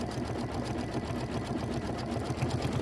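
An embroidery sewing machine stitches a quilt with a steady, rapid mechanical whirr and rhythmic needle chatter that runs continuously at close range.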